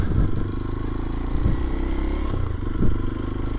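A Kawasaki KLX230SE motorcycle engine idles and putters close by as the bike maneuvers and turns on gravel and dirt, with a few louder revs and light crunching underneath.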